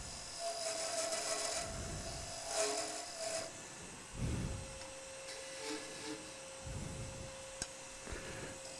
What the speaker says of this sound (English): All I'm doing here with the parting tool is bringing it down to meet the bushing.